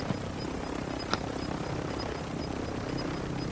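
A helicopter in the Call of Duty Warzone 2.0 video game gives a steady, moderately loud rotor drone that runs the whole time, with a brief sharp click partway through.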